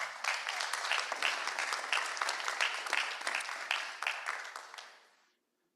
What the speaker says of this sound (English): Please join, yes, applause